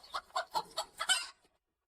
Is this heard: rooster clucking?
yes